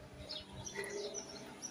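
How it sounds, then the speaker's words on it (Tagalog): Birds chirping outdoors on a neighborhood walk in Lebanon, faint scattered high tweets over quiet background for under two seconds. "gandang pakinggan ang"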